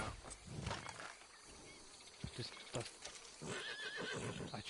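Horse in the video game Red Dead Redemption 2 neighs and whinnies loudly, with hoof clip-clops, while someone talks over it.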